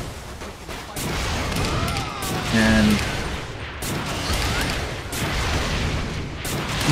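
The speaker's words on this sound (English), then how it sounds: "when I have the rocket launcher available, I pretty much use it exclusively along with grenades" Rocket launcher blasts and grenade explosions in the video game Saints Row: The Third during Mayhem mode, a continuous dense roar of booms and gunfire-like bursts with a brief voice at the start.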